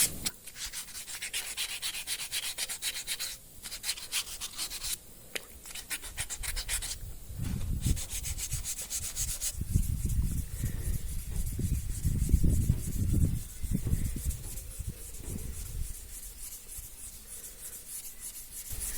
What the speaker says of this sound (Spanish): Esta ya es la última lija. Estoy acabando con la del 1000.